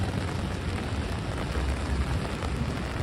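Steady rain falls in Midtown Manhattan near 432 Park Avenue, a dense even wash of droplets hissing on pavement with a low rumble underneath, continuous and close throughout with no voices.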